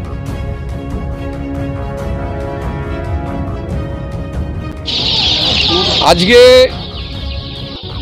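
Clucking from a batch of 28-day-old chickens being handed out to rural women's self-help groups at a distribution event in Barasat block 2, with people talking over the continuous birdsounds.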